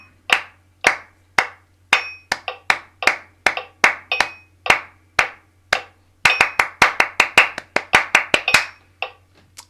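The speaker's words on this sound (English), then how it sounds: "even if I wasn't clapping all that rhythm perfectly to start with, it warmed me up" Hands clap out a rhythmic warm-up pattern, sharp close claps in uneven groupings, sparse at first then faster and denser toward the end, alone with no voices.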